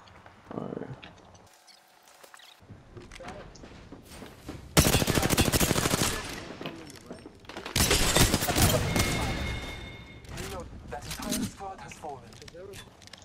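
Gunfire in the video game Apex Legends, with two loud bursts of rapid shots separated by quieter stretches, and a voice talking in between.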